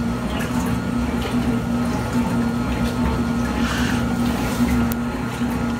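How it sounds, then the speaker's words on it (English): 1980s Kenmore laundry center washing machine running on a cotton sturdy cycle, its pump giving a steady droning hum under continuous watery sloshing, constant and fairly close. "the pump is making a bit of a noise"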